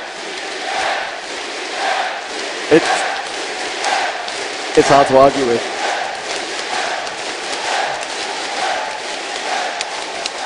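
A crowd at a League of Legends world championship tournament venue roars and chants, with a few sharp shouts and cheers rising in the middle, while a commentator talks over the noise.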